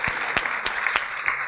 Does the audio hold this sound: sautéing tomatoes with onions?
no